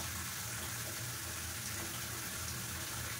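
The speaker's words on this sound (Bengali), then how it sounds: "চলো আর মাছ টাছগুলো তাহলে ধুয়ে নিয়েছি" Tap water runs in a steady, loud, continuous gush while fish are washed at a kitchen sink, with no talking over it.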